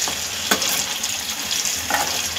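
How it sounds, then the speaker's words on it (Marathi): Alu vadi, rolled colocasia-leaf slices, frying in hot oil give a steady bright sizzle, with a couple of louder crackling spits rising out of the continuous hiss. "व्यवस्थित गोल्डन ब्राऊन होईपर्यंत फ्राय करून घ्यायचे"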